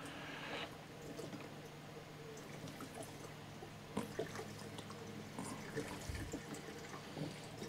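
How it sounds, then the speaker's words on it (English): Fuel pours steadily from a jug into a chipper shredder, a soft continuous trickle with a few faint clunks, fairly quiet throughout. "So I'm going to put my jug in place and just pour a little bit of fuel."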